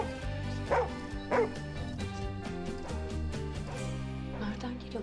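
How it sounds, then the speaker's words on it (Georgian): A dog gives a couple of short barks and yips over steady background music in a dubbed drama scene, with whimpering tones and voices in the mix. "ძაღლის ყეფა საიდან ისვის?"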